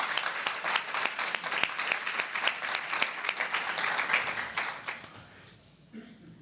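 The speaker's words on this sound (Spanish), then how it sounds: "give a strong applause to the Lord?" A church congregation bursts into strong, dense applause that holds steady for about five seconds, then thins out and fades as clapping stops near the end.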